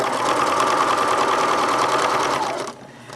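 A sewing machine stitches binding onto the edge of a quilt, a fast, even mechanical whirr running close and loud for nearly three seconds before stopping abruptly near a corner.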